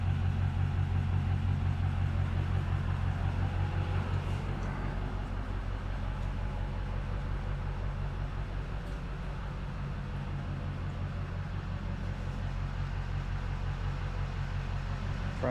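A long-stored Lamborghini Diablo VT garage find runs after its first startup, a loud, steady low engine rumble with a constant hum that eases slightly partway through, no voices.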